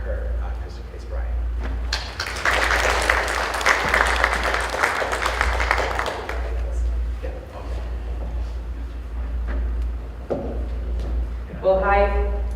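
Audience applause welcoming speaker Kristen Case Bryant, a burst of clapping that swells, holds for a few seconds and fades, followed by room noise and shuffling.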